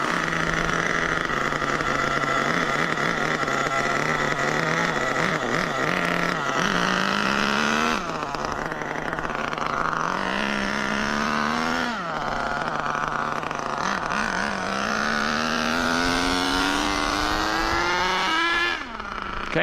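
A big red vehicle's engine runs while being driven, its pitch climbing and dropping repeatedly through gear changes, loud and close for the whole stretch.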